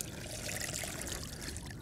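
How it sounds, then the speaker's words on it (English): Water trickling and dribbling out of a strainer of soaked fishing pellets as they drain, a steady close splattering drip with no talk. "Just allow the pellets to drain."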